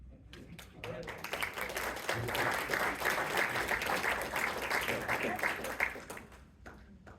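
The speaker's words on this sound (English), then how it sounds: "Give one more round of applause for all of our" A gathering at a city council session applauds for a few seconds, the clapping building from scattered hands into a fuller round, with some chatter mixed in before it thins out.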